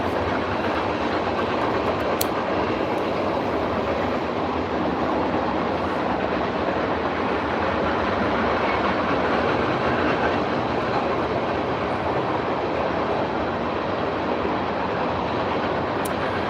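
A train passes with a steady, unbroken rail rumble that holds at an even loudness throughout, with no voices.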